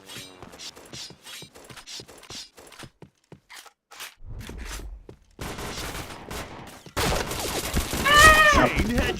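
Rapid gunfire bursts from the Point Blank shooter game crackle through a busy mix of in-game effects, with scattered shots early and dense, loud firing near the end, while players chatter over the top.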